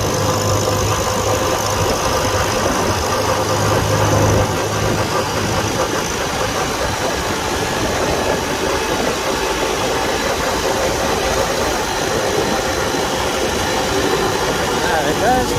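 A 1949 Farmall Super A tractor engine runs steadily while driving, a continuous mid-pitched chugging drone with some rattle that holds at an even loudness throughout.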